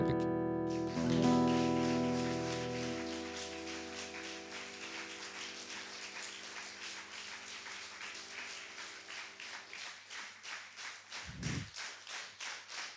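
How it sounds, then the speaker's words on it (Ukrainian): Concert audience at a Christmas gathering breaking into rhythmic clapping as the last music chord fades, the applause settling into steady synchronized claps with a low thump near the end. "Ось гэта правильные аплодисменты."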